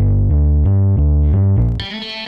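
A sustained, harmonically rich tone with gritty distortion from the HoRNet Graffio CM plugin, stepping through several held notes before shifting to a brighter, buzzier texture at the end.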